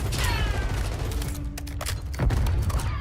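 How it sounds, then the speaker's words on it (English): Rapid bursts of video game gunfire crackle through a team match, with sharp shots clustered near the start and again toward the end, loud and close against steady background sound. "Nice shooting, Tex."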